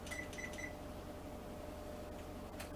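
An oven timer being set gives three quick, faint electronic beeps at the start, followed by quiet room hum and a soft click near the end.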